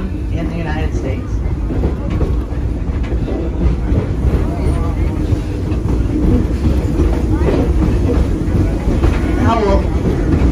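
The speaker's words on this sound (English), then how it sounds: "It is the oldest operating steam engine in the United States." A steam train built in 1873, the oldest operating steam engine in the United States, rolls along its rails with a loud, steady rumble and rhythmic clatter heard continuously from on board.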